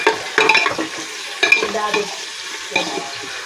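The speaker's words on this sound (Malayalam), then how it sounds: "നല്ലപോലെ ഇളക്കുക." Onions and cardamom in coconut oil are stirred in a pan with a spoon, giving scraping strokes in a few bursts over a soft sizzle, up close.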